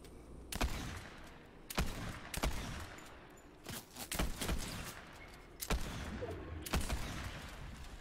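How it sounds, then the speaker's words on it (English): Gunshots from other players in the video game Fortnite crack out in about six sharp, separate bursts spread across the stretch, each loud and clear over a steady low background rumble, with no talk. "Oh, people are shooting us."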